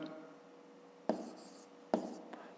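Pen writing out a maths expression on paper, soft quiet scratching strokes with a couple of sharper taps.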